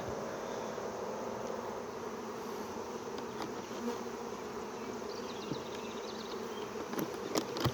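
Dense, continuous buzzing of a large mass of bees, with individual insects droning past close by over a steady hum.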